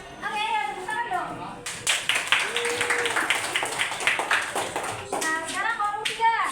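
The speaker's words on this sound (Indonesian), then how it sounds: "tepuk tangan dong" A classroom of students claps hands in a burst of quick, fairly loud claps lasting several seconds, with children's and a teacher's voices heard before and after.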